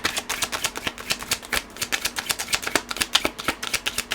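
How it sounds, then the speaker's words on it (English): Tarot cards being shuffled by hand, a rapid series of crisp papery taps and riffles in an uneven rhythm, close and clear with no talking. "I'm going to shuffle them back in and try that one again."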